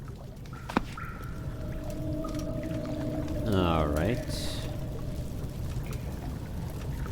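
Sewer water flowing in Amnesia: The Dark Descent, a steady rushing pour that runs throughout under an eerie sweeping groan and a few small clanks, with a person speaking briefly.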